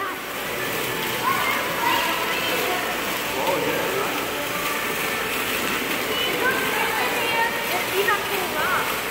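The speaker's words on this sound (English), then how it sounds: "This nice waterfall." Waterfall at a former workplace beside a shut-down mall, a steady rushing wash of falling water that stays loud and even throughout, with people talking over it.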